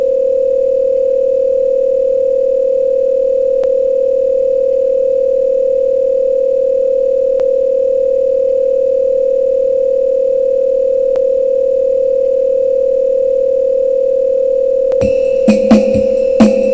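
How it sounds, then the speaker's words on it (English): A steady electronic telephone tone sound effect hums continuously through a song, joined near the end by brief clattering bursts. "Oh no, we got a telephone call."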